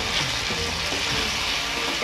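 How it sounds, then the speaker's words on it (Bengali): Chilli paneer Maggi sauce with green chilli sauce and tomato ketchup sizzles and fries steadily in a pan, a continuous close crackle with faint stirring scrapes and no voices. "green chilli sauce, tomato ketchup এবং দিয়ে আবার ভালো করে আমরা এটিকে রান্না করে নেব"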